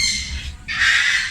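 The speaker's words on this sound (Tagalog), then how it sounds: "Daming ibon dito." Loud, grating squawks from a crowd of birds at a zoo, a brief dip in the racket, then a burst of shrill calls again.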